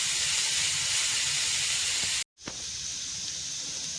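Onion and green chili sautéing in a hot pan give a steady, loud hiss and sizzle, briefly cut off near the middle before resuming.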